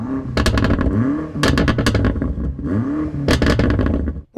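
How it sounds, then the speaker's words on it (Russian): BMW M5 engine blipped repeatedly up close, three loud rising revs with crackling exhaust bursts between them, settling briefly to a rumbling idle. "А теперь послушаем BMW."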